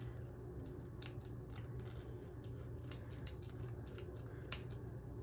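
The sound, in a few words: scissors cutting wig lace in a zigzag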